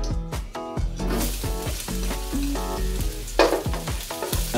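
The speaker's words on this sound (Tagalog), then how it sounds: "Igusa na tayo ng bawang." Garlic sautés in hot oil for a kare-kare sauce, giving a steady, close sizzle with occasional stirring scrapes, while tonal background music plays underneath.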